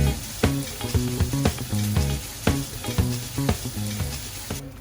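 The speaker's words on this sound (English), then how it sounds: "so as you can see it's frying nicely" Crumbled vintage cheddar and an egg fry in a pan with a loud, steady sizzle and crackle, broken by repeated, rhythmic tonal bursts, and no voices.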